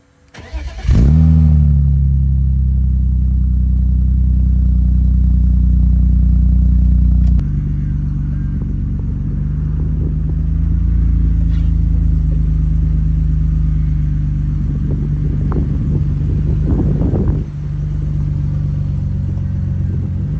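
A BMW E30 with a 3-litre engine cranks and fires, then settles into a steady, loud, deep idle close by, with a slight shift in tone partway through and a few faint clicks and knocks near the end.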